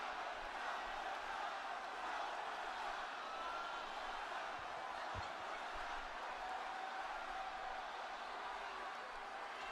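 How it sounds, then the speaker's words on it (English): Dense arena crowd at a WWE SmackDown wrestling event in Grand Rapids, a steady roar of cheering and chanting that holds loud and unbroken throughout. "this crowd is getting a workout."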